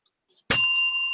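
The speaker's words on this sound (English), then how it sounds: "When you hear the bell, I'm gonna start my spiel." A single bell strike rings out sharply after silence, a bright metallic ding that sustains with clear ringing overtones to the end.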